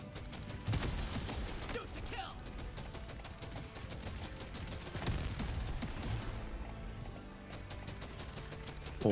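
Shotgun blasts in Deep Rock Galactic: Survivor thump out in rapid, dense bursts over constant gunfire and game clatter, loud and continuous for several seconds, with a voice occasionally under the barrage.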